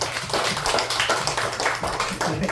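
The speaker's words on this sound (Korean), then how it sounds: "우리 여러분 박수로 마치겠습니다" People at a church service clap briefly to close the gathering, with separate, irregular claps close by rather than a large roaring ovation.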